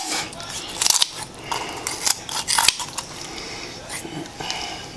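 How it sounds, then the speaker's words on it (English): Kitchen scissors cut out the backbone of a whole chicken in sharp, close crunching snips, several in quick irregular bursts with short pauses between them. "I just snip just the backbone itself."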